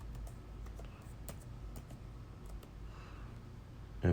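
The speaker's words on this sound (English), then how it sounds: "I'm gonna type exactly what you told me to type" A command being typed on a computer keyboard: quiet, quick clicking keystrokes in uneven bursts close by, ending in a sudden louder thump.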